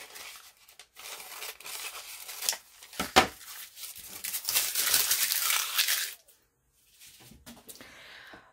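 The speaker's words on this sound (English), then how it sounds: "just sort of grab my big scissors and cut" Paper being cut with large scissors at close range, with a few crisp snips and rustling crinkles, then a short pause and softer paper movement.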